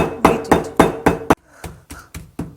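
A pestle pounds ingredients sealed in a Ziploc bag, ten sharp thuds in an even rhythm, the first five louder and crisper, the rest softer and duller, close up with no talk.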